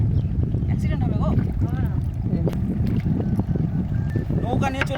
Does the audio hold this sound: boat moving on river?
yes